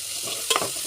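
Ginger garlic paste with turmeric is stirred in a hot pan, giving a close frying hiss and a brief louder scrape of the spoon midway, no talking.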